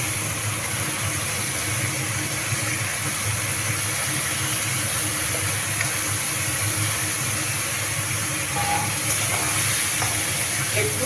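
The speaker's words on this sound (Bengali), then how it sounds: "তো আমি এখন এই চাল ভাজাটা দিয়ে দেবো এর" Soaked fried rice stirred into sizzling cooked-down spice paste for chicken pulao, a dense, continuous sizzle with a low steady hum underneath throughout, fairly even in loudness.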